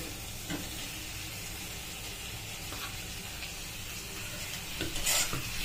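Chopped tomatoes stirred into hot frying mustard paste for a mushroom mustard curry, giving a steady broadband sizzle with scraping spoon strokes and a brief louder hiss near the end, no talking.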